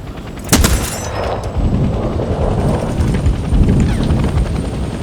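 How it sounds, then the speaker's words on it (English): An enemy helicopter in Hell Let Loose Vietnam thrums steadily and loudly throughout, its rotor beat joined by bursts of gunfire firing at it. "shoot down the enemy chopper"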